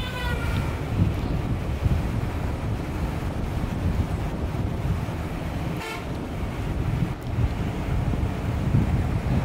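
Wind and surf on Kolatoli beach at Cox's Bazar in the rainy season, a steady loud broadband roar of waves and gusting wind across the whole stretch, with no talking.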